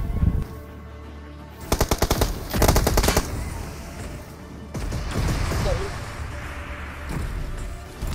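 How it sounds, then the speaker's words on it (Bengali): PUBG video game gunfire at an enemy: two rapid automatic bursts of close, loud rattling shots, followed by quieter in-game ambience and later louder rumbling activity. "এখানে নামার পর দেখো এনিমিতে ফায়ার করে"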